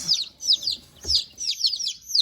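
Backyard flock of Easter Egger and Cream Legbar chickens, with a rooster among them, giving repeated close, fairly loud clucks and chirpy calls in quick bursts, with no talking.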